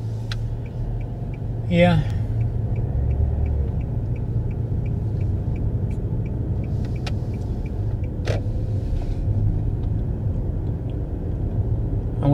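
Car driving through a small Georgia town past City Hall, a steady low engine and road rumble throughout with faint passing sounds and brief clicks, someone briefly speaking over it.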